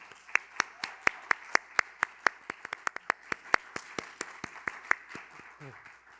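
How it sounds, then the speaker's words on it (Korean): An audience at a youth speech contest final claps to welcome the next speaker, a steady run of sharp, evenly spaced hand claps, fairly close and clear, with a brief low sound near the end. "지승욱 참가자의 연설 박수로 맞아주십시오."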